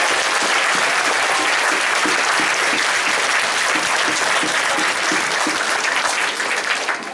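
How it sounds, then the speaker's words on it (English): Sustained, loud audience applause at a school concert, dense clapping filling the whole stretch evenly before easing slightly at the end. "a big round of applause for Miss Sonia."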